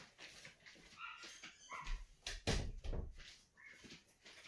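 Several household dogs bark and whimper indoors in a workshop home, a faint, scattered burst of yelps and barks mixed with a door or cupboard knock, no talking.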